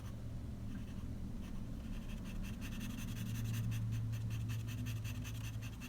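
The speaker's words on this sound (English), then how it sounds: "You can shade in the edge of the nose with a lighter, more delicate shading" Soft, continuous scratching of a charcoal pencil shading on paper, faint and close with quick strokes, no voices.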